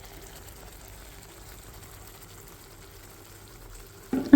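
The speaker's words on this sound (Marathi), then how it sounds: "आता ह्याला थोडं तेल सुटेपर्यंत भाजू द्या." Thick egg curry gravy fries gently in oil in a pan, giving a faint low sizzle with a short louder stir or splash at the end, with no speech.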